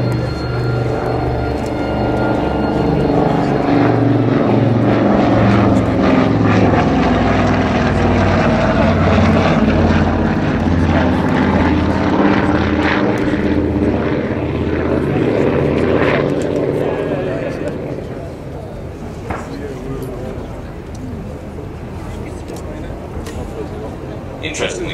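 An Avro Anson propeller aircraft flies at the Farnborough airshow, its loud, throbbing piston-engine drone holding steady before fading away near the end, with a commentator talking over it throughout.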